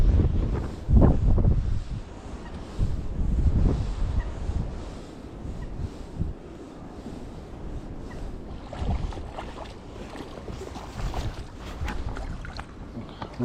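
Strong winter wind buffets the microphone beside the Rufford Canal during lure fishing, a loud rumbling roar in gusts that rises and eases throughout, with faint movement sounds mixed in.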